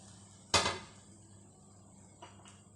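Freshly made crispy mooli paratha set down onto a dish, one sharp clatter of plate and utensil followed by two faint lighter knocks, otherwise quiet.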